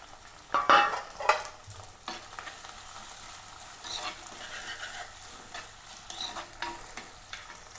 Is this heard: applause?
no